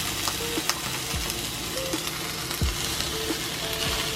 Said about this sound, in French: On va saisir l'autre côté et pendant que ça saisit, on va rajouter le pain.